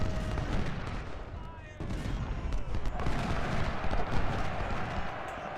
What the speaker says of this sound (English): Fire point blank volley into stall.